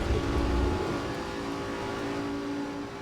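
A loud, steady race car engine in a sim racing game at Brands Hatch drones at high revs, holding a constant pitch with no talking.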